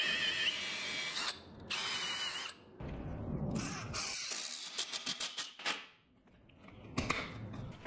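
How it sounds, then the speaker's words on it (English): Power drill driving lag screws into a 2x6 fastened to a post, with several loud whirring bursts separated by short pauses and ratcheting clicks near the end. "I fasten the 2x6 to the post with a couple lag type screws"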